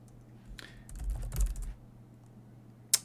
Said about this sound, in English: then I'm going to type in my new password